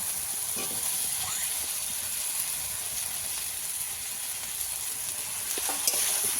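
Fried potatoes are sautéed in hot oil for a fish curry with bori. A continuous hissing sizzle holds steady, with a few faint stirring scrapes, close and alone.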